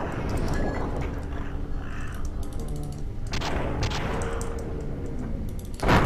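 Slowed-down gunfire in the New Age Soldier video game, a muffled stretched series of shots and booms over a dense rumbling game soundscape, with a louder burst at the end.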